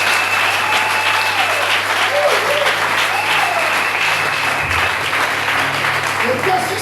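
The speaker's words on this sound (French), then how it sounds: "Est-ce que vous pouvez acclamer très fort le Seigneur?" A church congregation bursts into loud, sustained applause and cheers, dense clapping filling the room for several seconds with voices mixed in.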